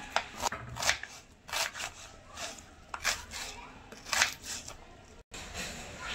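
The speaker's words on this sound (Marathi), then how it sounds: "कांदा घेतलेला आहे, त्याला असं कापून घेत आहे" Onion sliced finely with a knife on a board, a quick irregular series of crisp chopping taps close by, with brief pauses between bursts and no talking.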